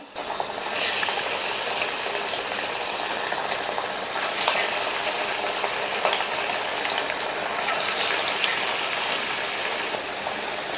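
Small pieces of snack dough deep frying in hot oil in a kadai, a continuous loud bubbling sizzle that swells and eases as more pieces drop in.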